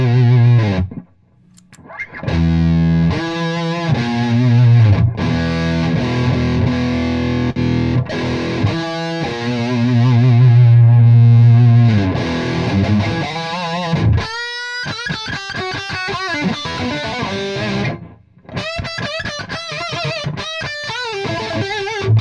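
Heavy distorted electric guitar played through an Amptweaker Curveball into a 5150 amp, chunky chords and riffs ringing loud with brief pauses between phrases.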